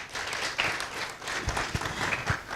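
An audience at a book launch breaks into applause, a dense wash of many hands clapping at moderate distance that lasts throughout with a few louder individual claps standing out.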